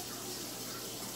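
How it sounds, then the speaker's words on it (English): A kitchen tap runs steadily into a pot being filled with water for macaroni and cheese, a constant close rushing stream with no talk over it. "That's where we're supposed to fill the water."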